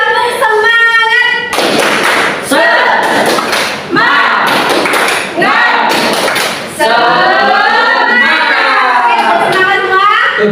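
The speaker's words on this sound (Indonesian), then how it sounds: "sekarang kita akhiri dengan tepuk semangat" A class of children does a rhythmic clapping cheer, bursts of quick patterned clapping alternating with loud shouted chanting, close and energetic.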